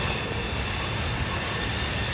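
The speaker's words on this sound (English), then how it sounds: "That was the greatest train in the world." A train rolls past in Niles, a loud, close, continuous rumble of wheels and rail noise that holds steady for the whole stretch with no voices.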